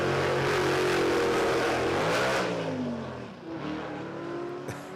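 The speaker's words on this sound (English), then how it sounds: "Look, I'm happy you gave it a free rev, mate. I like hearing that stuff." Drag racing car engine free revving at a live street performance event, loud and close, with the revs climbing and then falling back in a long sweeping pitch over several seconds.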